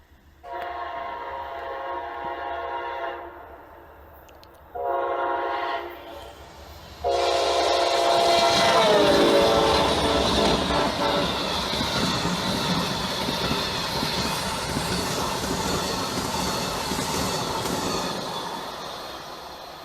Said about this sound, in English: This next catch includes Amtrak 48 with 2 50th anniversary units, Amtrak 100 yet again, and Amtrak 108, which is the Phase 6 anniversary unit.